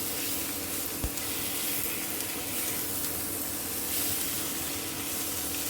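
Chopped tomato cooks with dried ribbonfish in a pan, giving a soft, steady sizzle and hiss throughout, with one brief knock partway through and no talking.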